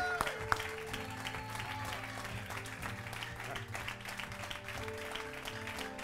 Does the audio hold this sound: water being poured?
no